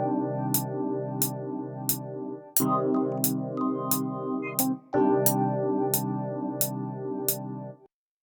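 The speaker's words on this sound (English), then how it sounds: "So that melody with the first melody I laid down on the Yamaha sounds like this." Melody on a Yamaha S80 synthesizer, thick sustained chords with a pulsing tremolo swell, layered over a lighter line and crisp regular percussive ticks, played loud and steady with abrupt chord changes.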